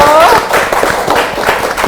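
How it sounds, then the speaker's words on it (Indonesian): Studio audience applauding on a live Indonesian television talk show, a dense, steady wash of clapping that lasts the whole moment, with a host's voice briefly audible at the start. "Boleh minta tepuk tangannya dulu dong yang di studio."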